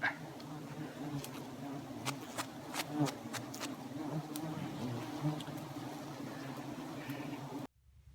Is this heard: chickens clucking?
no